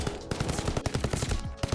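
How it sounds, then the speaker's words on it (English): Rapid automatic gunfire from blind firing around a corner in a Call of Duty video game, a tight burst of closely spaced, punchy shots at moderate loudness. "Wasn't there like blind firing in this game?"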